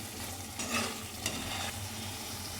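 Spice mixture frying in a pan, with a close, steady sizzle and stirring scrape and a couple of brighter bursts of crackle partway through.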